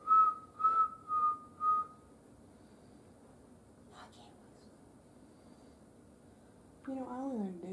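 Inside a house, a person whistles four short, clear notes close by. A quiet pause follows, then someone starts speaking.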